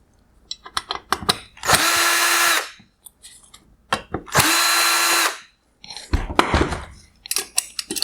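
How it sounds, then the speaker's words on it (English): Power drill removing Phillips head screws from a 2018-2020 Lexus NX LED headlight, with two sustained whirring bursts of about a second each, surrounded by close clicks, taps and handling noises of the headlight parts. "I will remove the 2 Phillips head screws holding the ballast in place."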